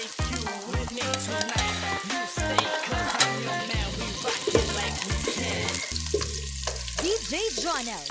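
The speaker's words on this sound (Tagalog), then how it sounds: "Lagyan natin ng konting olive oil para igisa natin yung bawang." Garlic sautéing in olive oil in a casserole pot, a steady frying sizzle with occasional stirring, partly buried under loud, rhythmic music with a strong beat.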